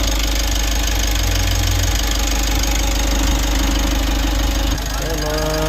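Mitsubishi L300 Euro 4 diesel engine, about 50K mileage with heavy carbon buildup, running with a loud steady rumble and knock close by; the tone shifts near the end.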